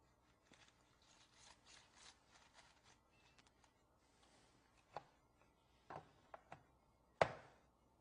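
A Drill Doctor 500 sharpener grinds a drill bit with soft rubbing and rasping passes, followed by several sharper clicks and one loud final knock near the end.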